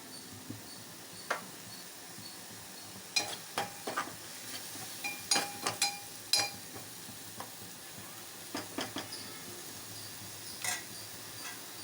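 Masala spices frying in a pan for a broad bean curry, a steady quiet sizzle with scattered sharp crackles and pops throughout, no voices.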